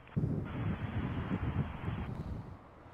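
An Air Canada jet takes off from runway 23 in gusty wind, a steady loud broadband roar of engines and wind rushing that holds through, with no talk over it.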